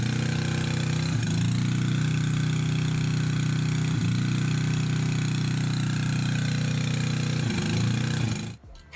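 A T-150 tractor engine with an oil problem runs at a steady idle, a loud, close, droning chug with faint periodic knocks, holding even for about eight seconds before it cuts off abruptly.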